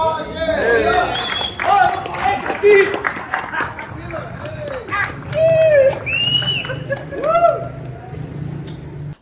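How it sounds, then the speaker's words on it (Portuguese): A crowd at a motorcycle racing event applauds and cheers for the category champion, with scattered whistles and shouts over moderate clapping. "Uma salva de palmas, gente!"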